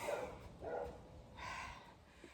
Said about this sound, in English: Now Titan's just gonna bark at the door